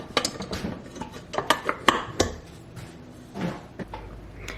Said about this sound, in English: I'm going to go ahead and pop the bowl onto the mixer.